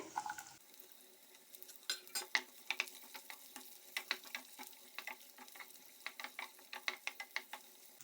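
Half an onion cut into cubes drops into a hot pan for white sauce pasta and fries with a steady, close crackling sizzle, broken by bursts of popping and stirring scrapes, with no voices.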